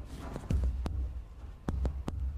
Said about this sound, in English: The headphones are amplifying their heartbeat.